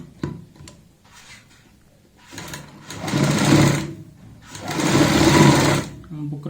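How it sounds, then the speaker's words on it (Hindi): A sewing machine stitches fabric and buckram for a kurti neckline in two rapid, whirring bursts, with a person talking around the stitching. "अब हम यहाँ पे नीचे की साइड ऐसे रखेंगे कपड़ा और सिलाई लगाएंगे यहाँ पे।"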